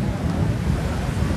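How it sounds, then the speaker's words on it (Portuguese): Strong wind gusting against the microphone at Maragogi beach in Brazil, a dense low rumbling buffet that stays steady and loud across the brief moment. "Tá ventando bastante."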